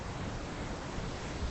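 Typhoon Haima bringing waves and wind to Victoria Harbour in Hong Kong, a dense, steady roar of surf and gusting wind buffeting the microphone, loud and close with no voices.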